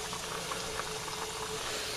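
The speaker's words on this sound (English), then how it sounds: "These are sizzling up nicely here." Steady crackling sizzle of breakfast burrito ingredients frying in a hot pan, close and continuous, with no voices.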